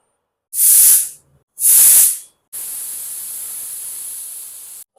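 A pressure cooker boiling minced meat lets out two loud, short bursts of steam hiss, then a long, steady whistling hiss that cuts off abruptly. No voices.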